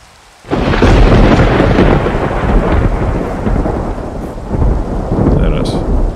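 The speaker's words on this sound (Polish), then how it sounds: "Lubię burzę." Thunderstorm with steady heavy rain in the Minecraft video game, a dense continuous downpour that starts abruptly and holds loud throughout, with rolling thunder swells layered in and no voices.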